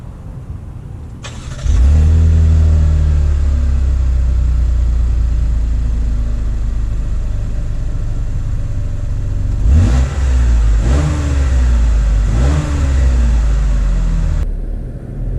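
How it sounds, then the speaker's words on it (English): A 2019 Chevy Blazer SUV starts and pulls away, its engine loud and close, rising in pitch through several distinct revs and gear shifts toward the end. "let's take the 2019 Blazer out to see how it drives"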